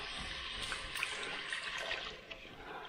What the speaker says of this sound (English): now we're going to add our 2 cups of chicken stock